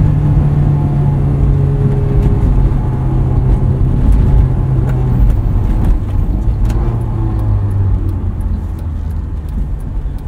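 A 2001 Honda S2000 drives through snow, its engine droning loud and steady from inside the car, then shifting pitch partway through, with no voices.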